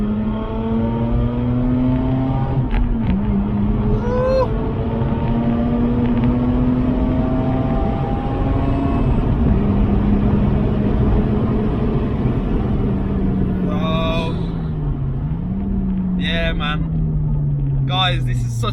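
A Mazda RX-8 with a 231 bhp rotary engine revs hard after a downshift to second gear, its steady rising drone filling the cabin, with a brief gear-change dip near the end and occasional voices inside the car.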